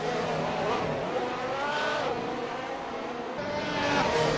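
Race cars in the Assetto Corsa racing game at Suzuka's Casio Triangle, engines droning loud and steady as they brake and downshift into the chicane, with faint tire noise throughout.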